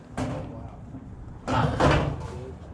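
A spring-loaded storage locker door is opened during a storage unit auction, giving a couple of rattling, scraping bursts that are fairly close and loud, with a voice speaking nearby.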